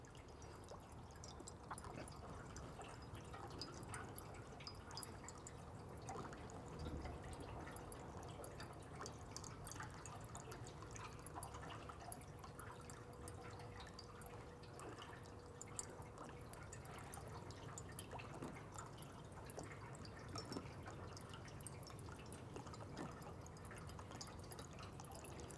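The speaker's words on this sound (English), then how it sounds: "Once we've done 2 gallons and then we put the second 2 gallons in, you'll see the water start to rise quickly in the tube" Water is poured from a watering can into a field autoclave's filler, a faint, continuous trickle and splash that runs steadily with no voices.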